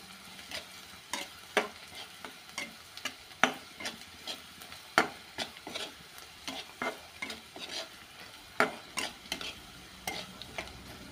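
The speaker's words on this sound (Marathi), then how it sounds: "हळद टाकणार आहोत, लाल तिखट, छान परतून घेऊया" Turmeric and red chili powder sautéed in a pan for a home-style safflower leaf vegetable dish, steady quiet sizzle broken by regular sharp spatula scrapes and taps against the pan, no voices.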